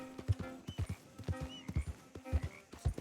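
Horse hooves clip-clop in Red Dead Redemption 2, a steady rhythmic series of close, distinct hoofbeats with faint tack jingles and no speech.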